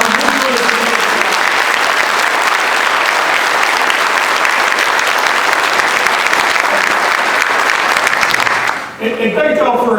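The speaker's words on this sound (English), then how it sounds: "Please, if you could give these folks a round of applause." An audience at a Border Patrol event applauds steadily for about nine seconds, with dense, loud clapping filling the room, before a voice begins to speak as it fades.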